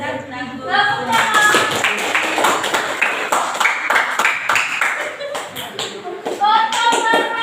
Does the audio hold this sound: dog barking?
no